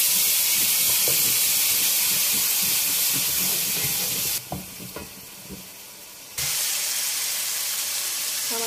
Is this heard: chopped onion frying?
yes